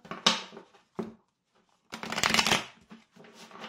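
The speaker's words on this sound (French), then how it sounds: "Je vais les rebattre." Tarot cards shuffled by hand in close bursts of riffling and sliding, with short pauses between passes and no speech.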